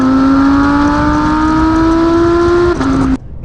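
An Audi R8 supercar's V10 engine revs hard, a loud sustained rising wail that climbs steadily, shifts briefly near the end, then cuts off abruptly into quiet.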